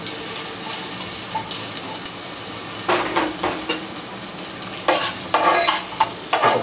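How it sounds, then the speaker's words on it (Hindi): Finely chopped onion fries and browns in hot oil for a cauliflower korma, a steady sizzle broken by louder bursts of stirring and spatula scrapes toward the end, close and without talk. "प्याज को अच्छी तरह से ब्राउन करना है हमें"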